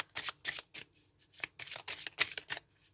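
Oracle cards are shuffled by hand nearby in quick repeated riffling bursts with brief pauses between them and no talking.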